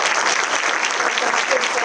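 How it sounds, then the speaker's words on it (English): A large audience at a school district State of the Schools presentation bursts into dense, sustained applause, steady and loud throughout with no pauses, many hands clapping at once. "All right, let's have a big round of applause."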